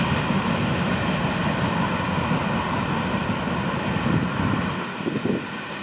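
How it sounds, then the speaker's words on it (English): A Florida East Coast Railway local freight train rolls past steadily, a loud, continuous rumble of wheels and cars that eases slightly near the end, with no talk. "The 920 local, there's a look at the whole train."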